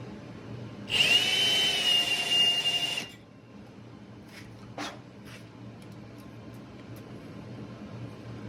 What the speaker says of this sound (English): Grind a little more.